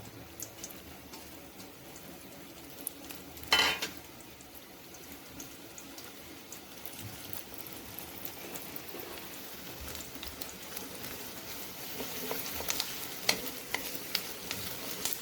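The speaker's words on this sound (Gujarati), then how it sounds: "તેને આપણે હાઈ ફ્લેમ ઉપર જ ફ્રાય કરીશું, જેથી સરસ એવો એનો ગોલ્ડન કલર આવી જાય." Sliced onions frying over a high flame give a steady low sizzle throughout, broken by a sharp clatter of stirring near the start and a few scattered ticks and pops later.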